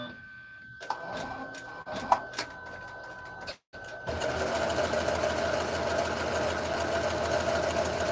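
A sewing machine stitches around the inside of a fabric purse, first a few short bursts and clicks, then after a brief pause a steady, close, rapid mechanical whir of continuous stitching.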